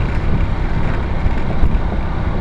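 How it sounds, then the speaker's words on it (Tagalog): Continuous low rumbling road noise with wind buffeting from riding a TMX 125 Alpha motorcycle, a steady dense clatter at speed, with no talking. "rinig mo talaga yung lagatok ng kalsada eh"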